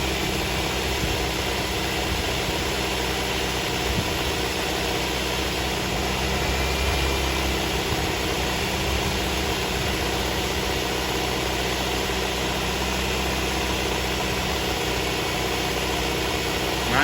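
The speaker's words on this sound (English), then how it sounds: "And you hear the engine sometimes pull down." A car engine idles steadily and close while Sea Foam cleaner is fed in, a continuous low rumble with faint vibration and occasional slight dips in tone as it pulls down.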